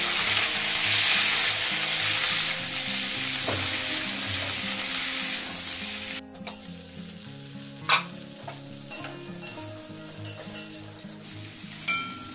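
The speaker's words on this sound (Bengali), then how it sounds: "যে ফুলকপিটা ভালো করে ভেজে নেব।" Steady, loud sizzling of cauliflower frying in oil, with occasional clinks and stirring knocks, no voices.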